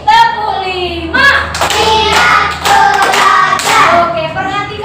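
Classroom clapping game for grade-three children: bursts of hand claps land at intervals beneath continuous, bright group chanting from many young voices, all close and fairly loud.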